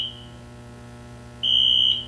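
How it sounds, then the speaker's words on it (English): A fire alarm sounds in a high school building during a football game. Two high electronic beeps come out clearly, the second longer and louder, over a steady low crowd hum. "We have no control over the fire alarm."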